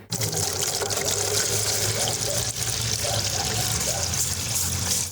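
A steady stream of water pours and trickles into a dogs' drinking bowl in hot weather, continuous and close by, with a soft bubbling undertone.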